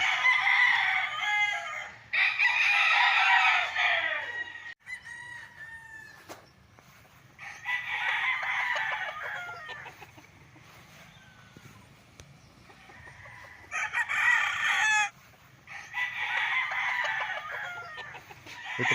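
Gamefowl roosters on a game farm with a small training cockpit crow in repeated loud bursts, several birds overlapping with clucks between the calls.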